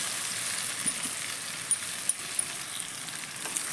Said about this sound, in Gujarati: હવે એમાં આપણે જે મુઠિયા કટ કરી નાખ્યા હતા એ હવે અંદર એડ કરી દઈશું બધું સારી રીતે મિક્સ કરતા જઈશું